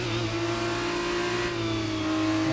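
A Formula 1 car engine in the F1 23 racing game drones steadily at high revs, a sustained buzzing tone that holds level throughout with no talk.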